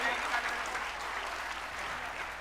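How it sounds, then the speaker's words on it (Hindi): An audience applauds at a Bundeli Bauchhar stage show in front of a live crowd: dense, continuous clapping fills the whole stretch, loud and near at first and easing slightly, with a voice talking over it. "जोरदार तालियां बजा दो भैया"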